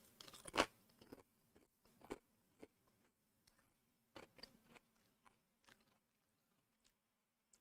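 Crunchy tomato-flavoured potato cracker bitten and chewed, a loud first crunch followed by scattered softer crunches spaced irregularly over several seconds, close and quiet.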